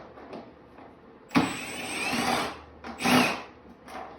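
A power driver backs out the lower bolt of a Harley-Davidson gauge, with a close, whirring burst of about a second, then a second shorter burst and a brief third touch, faint handling noise between.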